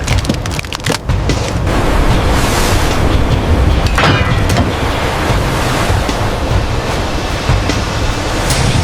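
Sea water sprays against the glass of a fishing boat at sea, a loud, continuous rush of surf and wind with sharp bursts of splashing early on.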